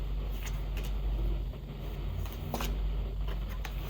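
Tarot cards are shuffled and drawn in a series of soft, papery riffles and slides close by, over a low hum of background traffic.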